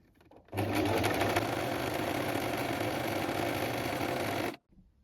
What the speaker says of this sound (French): vous allez donc piquer à 5 mm du bord pour la première ligne de fronce